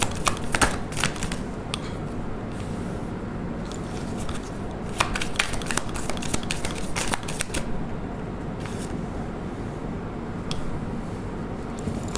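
A deck of tarot-style cards being shuffled for a card reading, with rapid riffling bursts and soft flicks that continue steadily and close by, with no speech.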